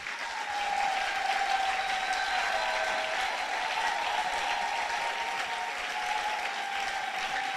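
A church congregation claps in sustained, even applause that fills the room at a moderate distance, a dense continuous patter of hands with no voices standing out.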